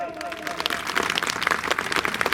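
A crowd at a Thakor community unity gathering in Ahmedabad breaks into scattered, building applause that mixes with a speaking voice over a public address system.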